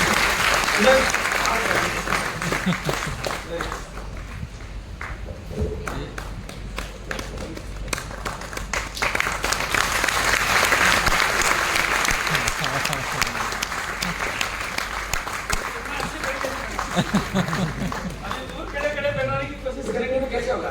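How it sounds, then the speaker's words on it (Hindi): An audience at a direct-selling business seminar in Jalandhar applauds, a long run of steady, dense clapping with talk over parts of it. "अब भैया के लिए, दोनों के लिए ताली बजाओ सर"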